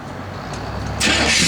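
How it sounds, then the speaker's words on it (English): A 1967 Chevrolet Chevelle SS with a big-block engine starts up. Low, steady cranking gives way about a second in to a sudden loud, broad roar as the engine catches, close by. "We'll have Jordy fire it up here"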